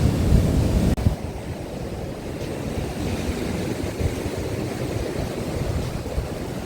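Sea surf rolls onto the shore at Odesa on a December day, a steady broad roar of waves with wind buffeting the microphone throughout and no talk.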